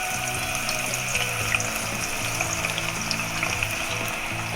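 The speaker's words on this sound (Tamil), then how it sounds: "இப்போ நான் பாவக்காயை பொரிக்க போகிறேன். எண்ணெய்க்குள்ளே போடுறேன்" Oil sizzles and crackles steadily as bitter gourd fries in a pan, close and continuous with faint popping throughout.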